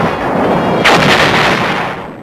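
Artillery fire from WWII, a heavy booming blast that erupts mid-clip over a constant rumbling roar, very loud and rolling away slowly.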